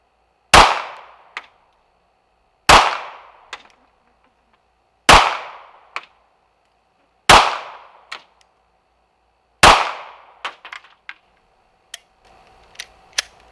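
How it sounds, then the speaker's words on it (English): A Ruger Security 9 pistol fired at a target outdoors: five loud, sharp shots spaced about two seconds apart, each followed by a fainter echo, then a quicker cluster of lighter cracks near the end. "I fired a total of 10 rounds"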